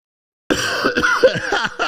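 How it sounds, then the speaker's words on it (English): Harsh coughing and throat clearing from a sick person, a cluster of rough bursts close to the listener, with no other sound around it. "Sorry for the coughing."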